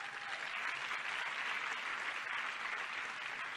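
An audience claps steadily after a speech, a dense, even wash of applause that holds at a constant loud level throughout with no voices breaking through.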